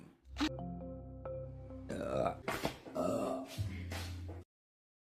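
A young woman belches deeply in a run of croaking, voiced burps that fill most of the few seconds, loud and close, then stop abruptly into silence.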